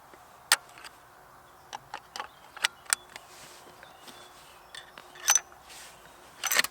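Cartridges in .308 Winchester pressed one by one into the two-column polymer magazine of a Haenel Jaeger NXT straight-pull rifle, giving sharp metallic clicks at an uneven pace, close and alone.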